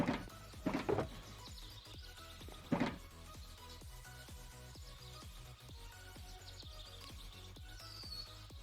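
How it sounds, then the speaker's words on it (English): Birds chirping in the Minecraft video game, faint and distant tweets scattered over a quiet ambient background, with a few louder clicks near the start. "can hear the birds chirping"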